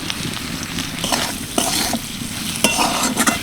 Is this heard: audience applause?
no